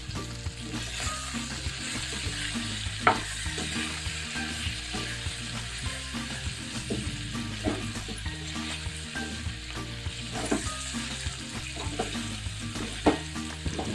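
Liver pepper fry sizzles steadily in a pan as it is stirred with pepper powder, a continuous frying hiss broken by frequent spoon scrapes and occasional sharper clinks against the pan.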